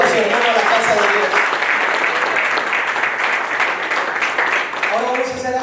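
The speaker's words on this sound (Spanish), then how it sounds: "Un aplauso al Espíritu Santo que trajo a su hermano a la casa de Dios" Church congregation applauding in a full church during a Spanish-language service, a dense sustained clapping that fills the room, with a voice speaking over it at the start and again near the end.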